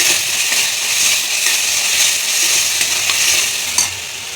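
Spice masala with a little sugar stir-fries in a hot pan for bhindi masala, giving a loud, continuous close sizzle with faint scraping of the stirring and no voices.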